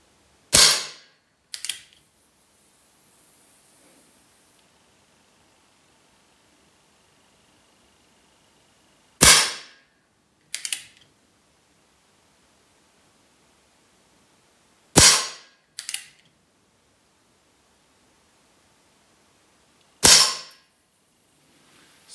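An Umarex Legends Cowboy Rifle air gun fires four sharp, loud shots spaced several seconds apart, each followed about a second later by a softer mechanical click of the lever action, with near silence between.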